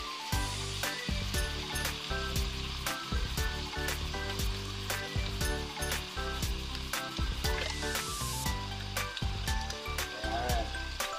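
Chicken adobo sizzling and frying steadily in a hot pan as soy sauce goes in, a dense continuous crackle with sharp clinks from a utensil against the pan, close and loud throughout.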